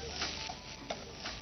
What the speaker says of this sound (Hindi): नॉन स्टिक पैन, उसमें लौकी डाल दी, लौकी डाल दी और अब इसको पकाना है।